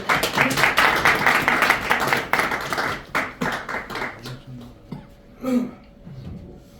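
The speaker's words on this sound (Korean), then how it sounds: "큰 박수 부탁드리겠습니다." Clapping from an audience at a civic education association gathering, a few seconds of brisk applause that breaks into scattered separate claps, a cough and light tapping as it dies away.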